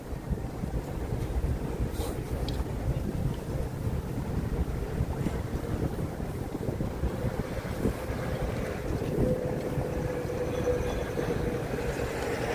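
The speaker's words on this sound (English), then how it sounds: "Can you hear the wind blowing?" Cold wind blows across Times Square in Midtown Manhattan after a snowstorm. It roars steadily and loudly into the microphone throughout, with no talking.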